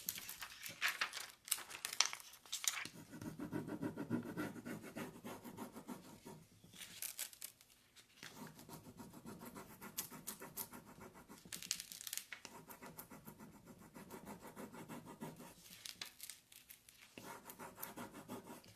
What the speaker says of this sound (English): that's going to need more rubbing.